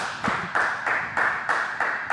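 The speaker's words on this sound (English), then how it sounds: "Come on, clap harder." An audience claps near the end of a show, several loud bursts of applause coming in rough waves about every quarter second, with no speech over them.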